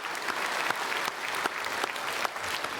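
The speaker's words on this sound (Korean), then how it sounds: "박수로 축복하겠습니다." Steady, fairly loud applause fills a Korean church Sunday service as the congregation claps together to bless the choir after a hymn, with a few sharper claps standing out from the dense patter.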